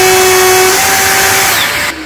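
A wood router cutting beech heartwood for a wardrobe and shoe cabinet, its loud, close, high whine holding steady before the pitch falls and fades as the cut ends.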